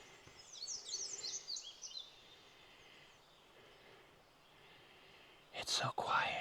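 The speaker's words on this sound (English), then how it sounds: "All I can hear is the birds. And the creek." Birds beside a creek on the Pine Creek Rail Trail, a burst of high chirping song early on over faint flowing water, a quiet stretch, then a louder close rustle near the end.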